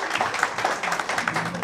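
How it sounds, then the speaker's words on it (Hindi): An audience at a Hindi film launch ceremony claps, a brief burst of steady, moderately loud applause from a crowd with no voices over it. "तालियां बजाइएगा।"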